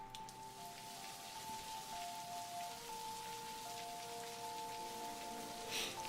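Steady rain patters on surfaces in the rainy setting of Necrobarista, a soft continuous hiss under sustained musical tones, with a brief brighter splash near the end.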